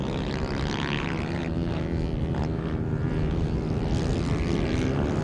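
A grass kart's FXR 150 motor running hard during a New Zealand grass kart race, a loud, continuous buzzing drone that stays steady throughout with no talk over it.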